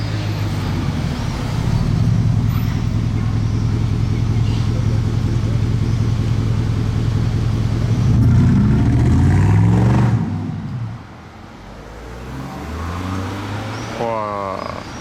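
A Porsche Mirage GT roadster with a modified aftermarket exhaust roars loudly and close, holding a deep sustained drone, then revving hard before a sharp cutoff and quieter idle pops; someone talks briefly near the end.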